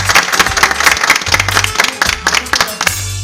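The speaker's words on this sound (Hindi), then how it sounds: "तालियां।" Audience applause during a stage performance, loud irregular clapping bursts over about three seconds, mixed with low thumping music.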